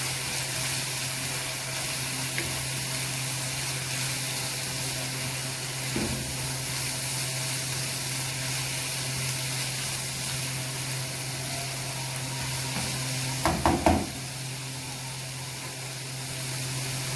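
Green onion and carrot stir-frying in a pan for pasta, a steady close sizzle and hiss running throughout, with a few soft stirring scrapes and a brief clatter near the end, without speech.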